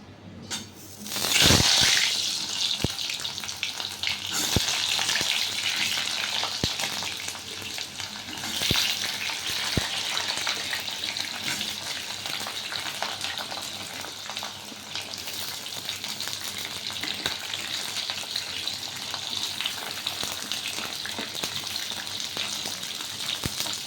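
Mixed vegetables tossed into a pan over hot whole-spice tempering, then stirred, for a white meat dish cooked without ground spices: a loud initial burst of sizzling settles into a steady, dense frying hiss with occasional scraping stirs, no talking.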